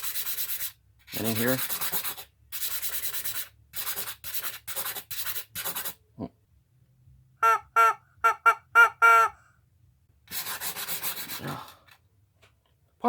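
A rock is scrubbed back and forth across gritty sandpaper in short rasping bursts, first coarse scratchy strokes, then a run of squeaky, tonal strokes, then more rasping, with a brief spoken remark between.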